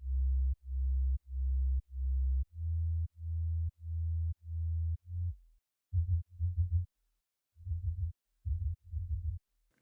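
Future bass synth run through compression and EQ: deep bass notes, first a run of evenly spaced sustained pulses, then choppier stuttering bursts separated by gaps, clean and isolated.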